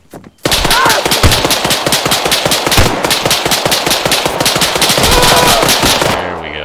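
Enemy automatic gunfire rattles in the video game Arma 3 as a loud, dense burst of rapid shots that runs for about six seconds before cutting off.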